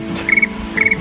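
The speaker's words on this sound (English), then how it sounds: "Oh, the crickets." Crickets chirp in two short pulsed bursts, fairly close and clear outdoors beside a garden bed, with quiet background between them.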